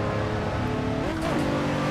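A Toyota 2JZ-engined car in Assetto Corsa's No Hesi traffic server drones steadily at mid revs, its pitch dipping briefly as it shifts, running continuously up close without speech.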